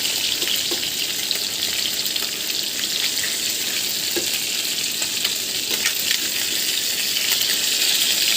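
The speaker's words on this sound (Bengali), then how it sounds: "এই মাছ ভাজতে গেলে অনেক সাবধানে থাকা লাগে" Aair fish frying in hot oil gives a steady, dense sizzle and crackle that runs unbroken throughout, close and fairly loud, with small pops scattered through it and no talking.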